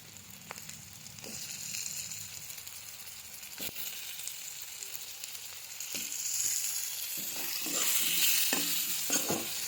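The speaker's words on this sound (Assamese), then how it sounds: "অকণমান আলু ভাজি ল'ম" Potatoes fry and sizzle in a pan with a steady hiss, punctuated by occasional scrapes and stirring knocks, growing louder toward the end; no voices.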